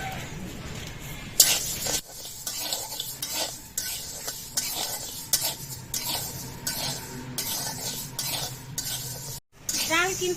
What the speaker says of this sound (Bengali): মুগ ডালটা ভালো করে ভেজে নেব।